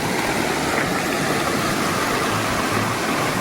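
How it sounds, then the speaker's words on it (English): Small Colorado River headwater stream, snowmelt-fed, in the Never Summer Mountains of Rocky Mountain National Park, rushing steadily with a dense, even broadband wash close by, no voices. "On the park's west side, in the Never Summer Mountains, the Colorado River begins as a tiny stream fed by snowmelt."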